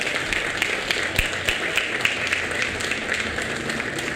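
Church congregation applauding in praise during a Portuguese-language sermon, a steady wash of clapping at moderate level with a few sharper individual claps standing out, continuing for several seconds without speech.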